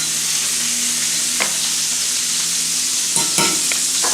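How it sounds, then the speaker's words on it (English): Sausage fries in oil with garlic in a pan, giving a steady loud sizzle with a few soft stirring scrapes and no voices. "you fry up your sausage. That nice sizzly sound makes it nice and brown."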